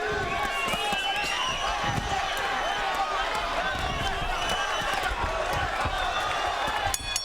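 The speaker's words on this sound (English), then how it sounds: "And the crowd on its feet loved it." Boxing arena crowd roaring steadily at the end of a fight between Fernando Angulo and Leonardo Zappavigna, a dense, continuous wall of cheering and clapping with a sharp burst near the end.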